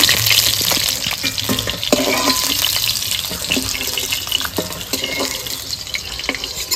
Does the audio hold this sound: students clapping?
no